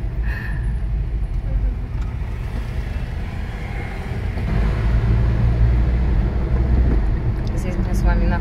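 A loaded car travels along a European highway, a steady low road rumble and engine drone that swells louder partway through as the body jostles over the surface, with people talking over it.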